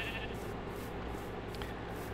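A sheep in Minecraft bleats, a quiet, brief call over a constant low background hum, with no one talking.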